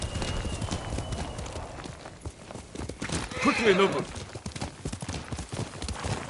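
Rhythmic clip-clop of horse hooves in the video game Ghost of Tsushima, with a horse whinnying partway through and a voice speaking briefly over it.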